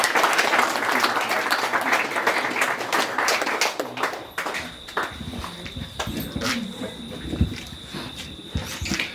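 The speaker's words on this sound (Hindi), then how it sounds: "सब एक ताली से स्वीकार करें।" A congregation at St. Paul's Church applauds a new member at a baptism, a loud burst of clapping that fades after about four seconds into scattered claps, shuffling and room noise.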